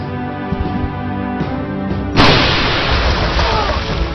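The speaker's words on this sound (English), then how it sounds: "I can launch an attack on the line here. It's an area effect weapon, so I should be able to affect 3 targets." An area effect weapon in Ghost Recon Shadow Wars detonates with a sudden loud broadband blast that follows a steady humming music bed, then holds as a rough, noisy rumble for the remaining seconds.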